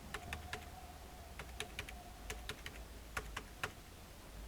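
A card number being typed on a computer keyboard for a point-of-sale payment entry: quiet, irregular clicky keystrokes come in short bursts and isolated taps against a low background hum.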